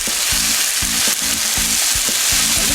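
Cherry tomatoes with their juice tumble into a pan where salmon is poaching, setting off a steady loud sizzle with a few clinking stirring taps over the frying.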